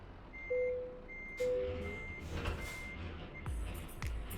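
In a video game, a truck backs up to pick up a trailer, its reversing alarm giving a few spaced electronic beeps over a low engine rumble, with hiss and clunks toward the end.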